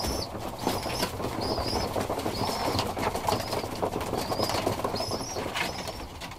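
Birmingham Roller pigeons coo and call repeatedly in a loft over a busy, steady rustle of flapping wings while feeding, with no voices.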